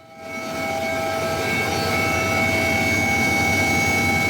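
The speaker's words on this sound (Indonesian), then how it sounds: "Tim gabungan menerbangkan 1 unit helikopter untuk melakukan pengamatan dari udara dan menyisir lokasi kebakaran KMP Mutiara Sentosa II" A search and rescue helicopter flying over the site of the KMP Mutiara Sentosa II ferry fire gives a steady, loud engine and rotor roar that swells in over the first half second and then holds constant with no talk.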